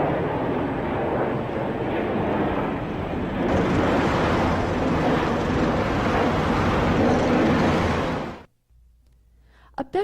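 Aircraft noise forms a loud, continuous broadband roar that holds steady for several seconds and then cuts off abruptly, leaving near silence.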